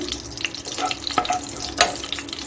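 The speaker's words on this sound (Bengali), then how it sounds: "ফোড়নটাকে একটু ভেজে নিচ্ছি" Whole cardamom, clove and cinnamon sizzle in hot ghee in a pan, a moderate crackling fry with sharp clicks and stirring scrapes close by, no talk.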